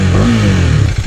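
A motorcycle engine being revved up close for a wheelie attempt, loud and steady with a rising and falling throaty drone, no voices.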